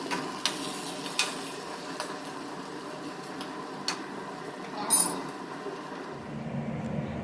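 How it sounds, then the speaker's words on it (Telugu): A spice mixture fries in a pan until browned for a pepper liver fry, giving a steady low sizzle with a few sharp clinks and scrapes from stirring, moderately close with no talking. "బ్రౌన్ కలర్లో వచ్చేంత వరకు ఫ్రై చేసుకోవాలి."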